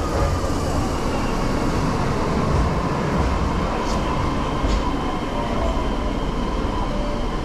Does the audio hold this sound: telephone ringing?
no